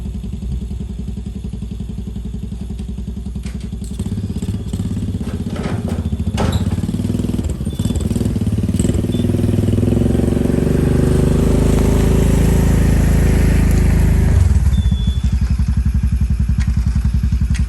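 A Honda Fourtrax 200 ATV engine runs loud and close while being ridden through the woods, its rough, throbbing putter rising as it revs and pulls, with clattering bumps and rattles from the trail.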